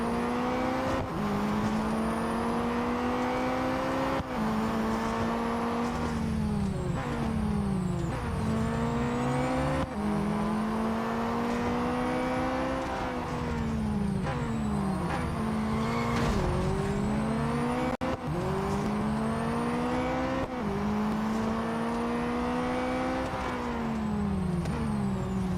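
A Formula E race car in the mobile racing game Real Racing 3 whines loudly and continuously, its pitch sweeping up with each acceleration and dropping sharply at every shift or braking point, repeating lap after lap without any talk.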